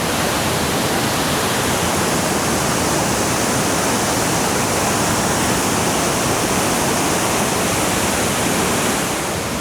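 Sera Ella, Sri Lanka's widest waterfall, pours down in a steady, loud roar of broadband rushing water, close and continuous with no break and no voices.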